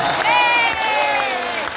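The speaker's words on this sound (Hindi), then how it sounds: "एक बार हाथ ऊपर करो और एक बार प्रेम से ताली मार के हंसिए" A crowd claps at a devotional kirtan and aarti in the Nandgaon–Barsana area of Braj. The clapping is loud, continuous and close, under sustained singing or chanting voices.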